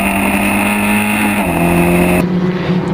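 Onboard a historic Formula Ford race car at Silverstone, a loud high-revving engine screams continuously, pitch stepping down through gear changes, with no voices.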